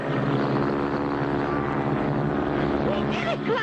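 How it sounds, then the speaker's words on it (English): A cartoon propeller airplane at full throttle drones steadily in flight while another plane flies close overhead, the engine's sustained hum running loud and unbroken with a faint warbling tone near the end. "There's another plane right on top of us."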